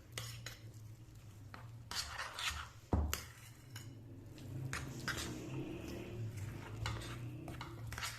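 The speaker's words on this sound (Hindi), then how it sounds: "हमें इसको अच्छी तरह से मिक्स कर देना है।" A metal spoon stirs korma in a pot while cooking a Ramadan dish, making soft, steady scraping and rubbing with occasional clinks against the pot, one sharper knock midway, all fairly faint with no talking.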